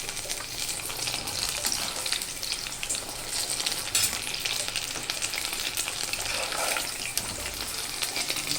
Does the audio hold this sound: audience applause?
no